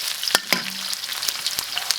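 Sichuan peppercorns crackle in hot oil in a wok alongside ginger and garlic, a steady close sizzle punctuated by a few sharp clinks of a spatula against the pan.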